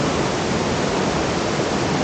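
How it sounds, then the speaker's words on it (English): Dense, roaring rush of falling water, a thunderous waterfall in western Tanzania filling the whole range with steady, unbroken noise. "Let's have a look what this thundering waterfall looks like."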